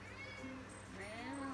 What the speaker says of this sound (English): I think the cat wants out.